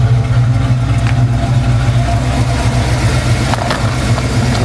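A car engine runs at a steady idle with a low, even rumble and no revving, close and loud throughout with no one talking.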